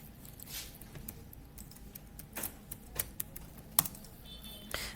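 Keys tapped on a computer keyboard while entering a user's password at a login prompt, a sparse run of soft clicks and a few sharper taps over low background hum, close and fairly quiet, with no talking.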